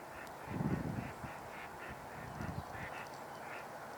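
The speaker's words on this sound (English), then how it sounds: "That is those are pintail vocalizations." Northern pintail ducks calling near and far over an open wetland, with a loud burst of honking, quacking notes early on and softer scattered calls continuing throughout.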